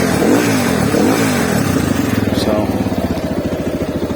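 A CSC RX3 motorcycle engine idles steadily at about 1500 RPM, a close, even, rhythmic putter that holds throughout with a brief brighter swell near the middle.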